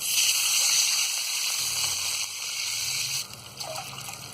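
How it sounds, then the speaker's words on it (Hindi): Water pours steadily into a hot pan of semolina for halwa, hissing and sizzling in a continuous rush, then settles into a softer bubbling. "1 कप हमने सूजी ली है तो हम 3 कप पानी डाल देंगे।"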